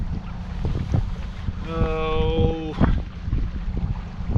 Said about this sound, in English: the wind's blowing probably 5-6 miles an hour